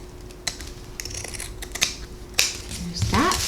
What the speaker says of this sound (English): And then I use pinking shears to cut these.